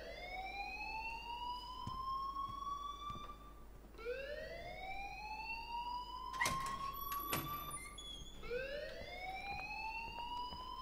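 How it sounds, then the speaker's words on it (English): An electronic alarm sounds repeatedly in Life Is Strange, each long rising wail sweeping upward roughly every four seconds, with a couple of sharp clanks in between and no talk. "please turn off that alarm since that's your job"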